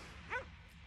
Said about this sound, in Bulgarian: Вижте, едно хубаво кученце Гала.